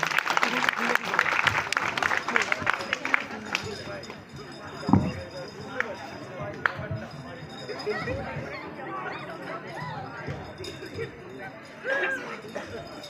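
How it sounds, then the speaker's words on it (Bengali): A crowd at a dance competition prize-giving claps for three winning dancers, a dense burst of applause that fades after a few seconds into chatter and murmuring from the audience. "এদের তিনজনের জন্য একবার সকলে বড় করে হাততালি দিন"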